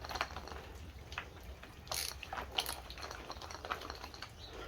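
Pull starter being taken off a Homelite 27AB chainsaw, close-up clicking, ratcheting and scraping of plastic and metal parts in short irregular bursts, no talking.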